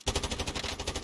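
Rapid automatic gunfire from Call of Duty Warzone, a steady burst of closely spaced loud shots running through the whole moment without pause.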